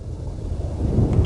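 Heavy rain pours over arid African savanna plain, a steady broadband wash with low rumbling and wind-like buffeting, continuous and fairly loud throughout with no voices.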